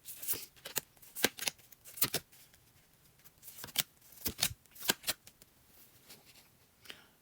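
Oracle cards being shuffled by hand in a quiet room, a run of crisp riffling flutters and soft slaps in uneven bursts, fairly close and alone with no talk.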